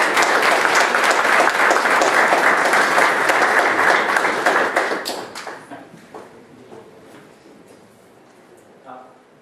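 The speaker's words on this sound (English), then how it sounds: "let's just give a round of applause for Thomas Kim" A workshop audience gives an introductory instructor a round of applause: dense, loud clapping for about five seconds, then it trails off into scattered claps and quiet.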